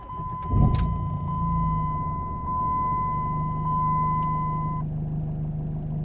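A Jeep Cherokee with ESP and BAS warning lights on has its ignition switched on, giving a short mechanical clunk followed by a steady high dashboard warning chime that holds for several seconds over a low idle hum, then stops.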